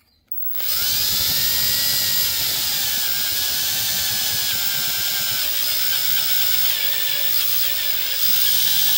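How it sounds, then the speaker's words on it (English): After a brief quiet moment, a power drill whines on and runs continuously at high speed drilling out a rivet on a steering wheel emblem of a 2010 Honda Civic, close and loud, with slight pitch changes as it bites. "you're going to drill out the rivet"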